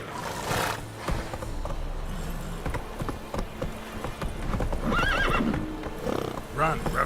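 The horse Roach in The Witcher 3 gallops with rapid clip-clop hoofbeats and gives a loud neigh, close and prominent, mixed with game effects and a voice speaking.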